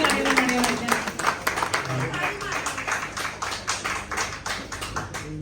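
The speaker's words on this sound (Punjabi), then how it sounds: "ਤਾੜੀਆਂ ਮਾਰੋ ਭਾਈ" Party guests clap together in a close, busy patter of quick uneven hand claps that runs the whole time, with voices talking faintly underneath.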